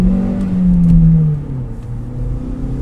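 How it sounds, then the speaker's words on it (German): Opel direct-injection petrol engine with 170 PS pulling strongly from low revs, a loud close engine drone that swells for about a second and then eases to a steadier hum, with no voices. "Der Benzin-Direkteinspritzer hängt toll am Gas, beschleunigt gut aus geringen Drehzahlen"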